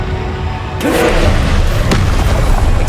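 A Confringo fire spell in Hogwarts Legacy lands as a sudden loud booming blast, followed by a rumbling roar that holds steady, with a sharp crack partway through.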